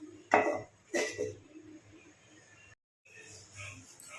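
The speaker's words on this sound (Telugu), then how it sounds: "మూత పెట్టేసుకుందాం దీనికైతే" A lid set down on a pot of tomatoes simmering on the stove gives two quick metallic clanks close by, followed by quiet cooking and a few soft clatters.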